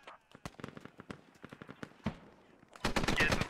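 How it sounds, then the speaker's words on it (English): Video game machine gun fire, rapid bursts of sharp shots coming in irregular volleys, ending in a dense, louder stretch of fire. "Yeah, so guys, we're getting shot"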